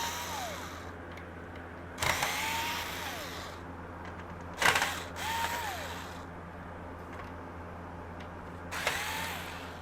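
Four screws being backed out of the plastic cover on an SNK Neo Geo MVS 1-slot arcade board, heard as short mechanical ratcheting bursts with gaps between them, close by, with no talk.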